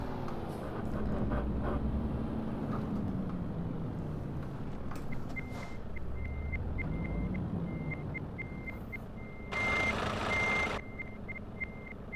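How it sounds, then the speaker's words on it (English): In the Euro Truck Simulator 2 video game, a truck's reversing beeper gives short, evenly spaced electronic beeps over a low engine drone, with a brief burst of louder noise partway through. "I think my buzzer in my reverse here is gone."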